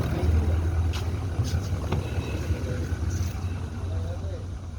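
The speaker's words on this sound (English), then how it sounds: "this is Land Cruiser V8 engine, diesel, automatic transmission" A Toyota Land Cruiser V8 4.2 TDI diesel engine with automatic transmission idles with a steady low rumble, heard close and continuous alongside some wind or background noise.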